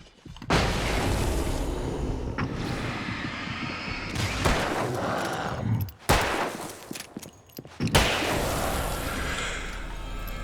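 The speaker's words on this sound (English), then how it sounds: "Oh, hang on, got a flashbang." A flashbang explosion and bursts of gunfire in the video game Alan Wake: loud, dense volleys of shots and booms filling the scene, broken by brief pauses, close and intense.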